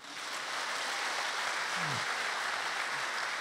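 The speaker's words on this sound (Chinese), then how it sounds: "再次掌声给他一下。" Audience applause after a performance at a church anniversary thanksgiving concert, a steady even wash of clapping from a crowd filling the whole short stretch, with a brief voice underneath.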